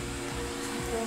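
An electric fan hums steadily inside a clean, newly built wooden toilet block at Shosenkyo Auto Campground, a soft, even whir that continues throughout.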